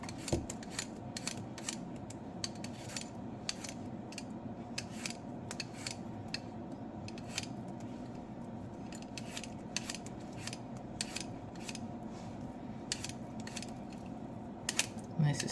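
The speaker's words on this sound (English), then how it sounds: "Okay, first I'm going to peel the skin off." A mirliton squash is peeled by hand, its skin removed in a long run of quick, crisp scraping clicks, close and fairly quiet over a low steady room hum.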